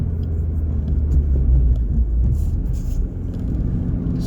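A Suzuki Swift Sport ZC33S hybrid with the K14D turbo engine hums along at a steady, low cabin rumble while driving, with a slight swell of engine load midway, and no talking.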